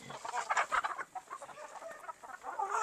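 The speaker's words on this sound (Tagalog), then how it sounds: "may nakalabas kasi na manok" Chickens cluck and chatter continuously, fairly faint, with soft outdoor background noise.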